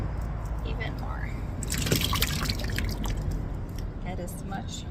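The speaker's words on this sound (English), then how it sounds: "Get as much of the water out as possible so that it's easier to dry." Hand-washed clothes being wrung out by hand, water dripping and trickling in uneven spatters with a louder burst in the middle, close by over a soft steady background.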